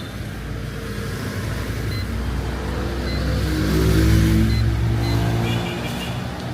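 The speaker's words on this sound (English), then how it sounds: "It's just everything happening on these roads. Bikes, cars, buses." Steady road traffic rumble in Vietnam with cars, motorbikes and buses passing close by, engine noise swelling midway and then easing, no voices.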